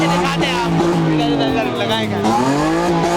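A modified car at an auto show in Islamabad revs its exhaust loudly and close by, the engine note rising and falling in sustained pulls as people talk over it.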